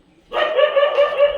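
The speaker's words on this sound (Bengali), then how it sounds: "দেখছো কুকুর ডাকছে।" A single drawn-out dog bark or yelp, loud and close, lasting about a second.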